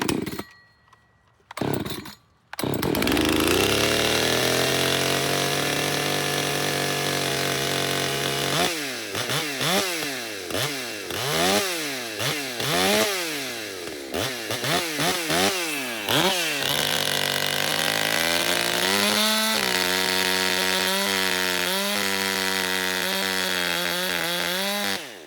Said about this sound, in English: I want you guys to pay attention how long this saw takes to start running clean